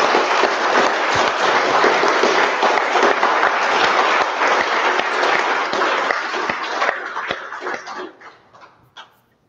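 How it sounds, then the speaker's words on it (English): Audience applause fills the space, a dense burst of clapping from many hands that holds steady and then thins out into scattered claps. "let's give them all a hand of applause"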